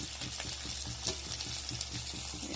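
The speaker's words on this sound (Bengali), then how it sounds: "পেঁয়াজ ভাজা হয়ে গিয়েছে। কড়াই দিয়ে দেবো আদা রসুন বাটা," Onions sizzle steadily in a wok with ginger-garlic paste, a dense continuous frying hiss with faint stirring scrapes, close and moderately loud with no voices.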